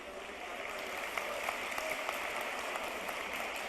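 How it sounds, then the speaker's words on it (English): Conference audience in a hall claps continuously, a dense even patter of many hands at moderate distance with no voices standing out, holding steady throughout. "Why are you clapping?"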